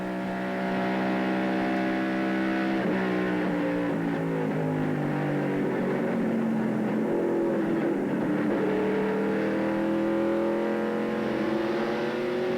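A NASCAR Busch Series race car engine at Darlington in 1995, heard from the roof camera, drones steadily at high revs, its pitch sliding down and then climbing again, heard continuously from up close.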